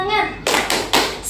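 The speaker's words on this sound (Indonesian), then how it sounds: "Tepuk semangat." Middle school students perform the rhythmic 'tepuk semangat' cheer clap in a school gathering, a few sharp unison claps in a short pattern, close and loud, following a child's spoken call.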